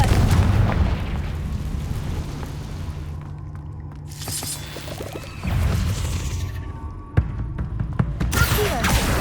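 Fiery spell explosions burst in the fantasy video game Hogwarts Legacy, with a loud opening blast, a quieter stretch of crackles, then renewed bursts and sharp impacts.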